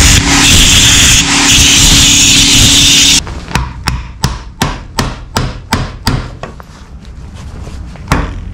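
Steel hammer striking a part on a Case 60XT skid steer under repair: about a dozen sharp, evenly spaced metallic blows close by, following several seconds of loud, steady engine or machine noise.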